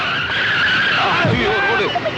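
A car with failed brakes skids in a comedy scene, its tires letting out a loud, sustained squeal that bends in pitch, with a voice heard over it.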